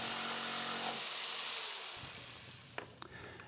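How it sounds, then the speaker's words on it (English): A jigsaw cuts through wood well outside a layout line while a router table is built, a loud buzzing saw that winds down, followed by a few light knocks. "Use a jigsaw to cut well outside the layout line."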